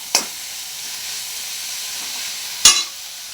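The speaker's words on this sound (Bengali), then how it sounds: "তো এখন এইটা নাড়াচাড়া করব।" Steady soft sizzle of flattened rice with green chilies in a hot wok, with two sharp scraping clicks of a spatula stirring, one near the start and one near the end.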